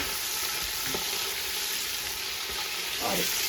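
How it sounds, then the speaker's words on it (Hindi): Steady, loud sizzle of chicken and onions frying in a pan, with occasional stirring scrapes over the constant hiss. "हम इसी में डाल के अब अपना ये चिकन भूनेंगे अच्छे से प्याज़ों में"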